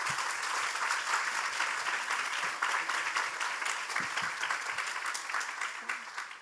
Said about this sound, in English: So I think everyone should applaud themselves.